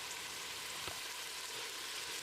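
Red chili paste, ground from twelve dried red chilies soaked in boiling water, sautéed in a pan for Ambur mutton biryani: a steady, close, even sizzle throughout, with one brief knock partway through and no talking.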